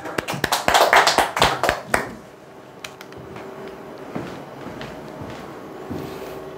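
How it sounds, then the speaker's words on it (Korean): An audience at a Korean telemarketing sales coaching seminar claps hands in a quick, loud burst of sharp claps for about two seconds, then the room falls to quiet background murmur and faint noise. "박수 한번 치시죠."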